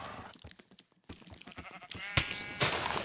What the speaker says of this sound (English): Okay, here are some sheep.